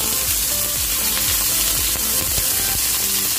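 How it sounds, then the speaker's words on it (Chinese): Prawns pan-frying over medium-high heat in Cantonese-style fried prawns with tomato sauce, giving a loud, steady close sizzle with crackling pops and scraping clicks, no voices. "中大火啦，咁我哋煎到佢有色，我哋就可以反转面再煎"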